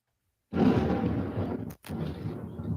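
A loud thunderclap rolls in during a South Florida storm, starting abruptly after a moment of silence and rumbling heavily for over two seconds with a brief drop before the rumble continues.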